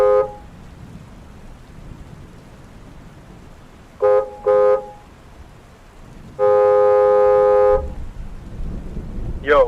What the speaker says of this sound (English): I'm just gonna honk the horn and see if anybody come out.